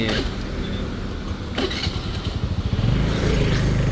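Motorbike ridden along a road, a close engine drone that rises and pulses as it picks up speed, with wind and road rumble and no talking.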